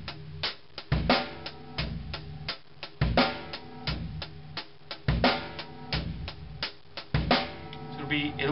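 A drum set plays a beat in 3/4 time with an extra bass drum stroke added, a repeating pattern of kick, snare and cymbal hits, fairly close and moderately quiet.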